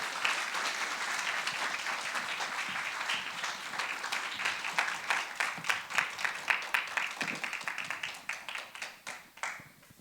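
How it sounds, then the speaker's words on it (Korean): A church congregation claps together during a worship service, steady massed applause that turns into rhythmic, evenly spaced claps toward the end, moderately loud in a reverberant room. "기도하는 박수를 이렇게 하면서"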